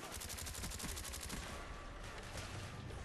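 FAMAS rifle fire in Call of Duty: Black Ops on the Berlin Wall map, rapid rattling bursts of automatic shots, crisp and fairly close, fading into quieter gunfire and ambience.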